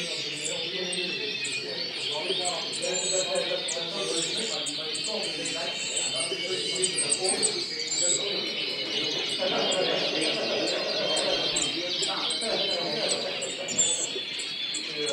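Canaries and finches at an indoor bird show, including yellow and colour canaries and bullfinches, chirp and trill continuously in a dense, bright chorus that fills the whole stretch.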